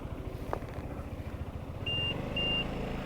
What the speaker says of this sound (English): Now if I just slightly pull the throttle, it will actually deactivate. It will beep and will deactivate.